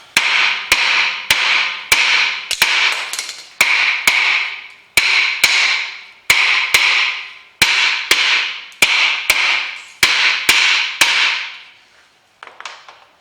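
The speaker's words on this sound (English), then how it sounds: "the hammer hitting it at the same time" Steady series of loud, sharp metallic hammer blows, about twenty strikes in an even rhythm with ringing decay, while a bar presses on a car's rear wheel bearing to drive it out.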